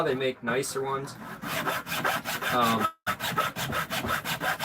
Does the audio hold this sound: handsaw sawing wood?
yes